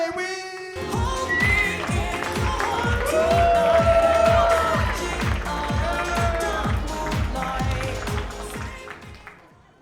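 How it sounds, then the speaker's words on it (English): Comedy club audience at a stand-up show claps and cheers at close range, with rhythmic clapping and whoops building to a peak midway and then fading. "please make some noise. Clap your hands"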